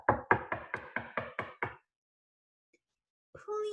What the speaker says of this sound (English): Dovid knocked very loudly on the door.